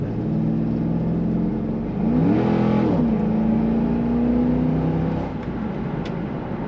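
A 2003 Chevrolet Corvette Convertible 50th Anniversary accelerates, its engine drone rising in pitch, then settling into a steady, loud hum as it cruises, heard from inside with no talk.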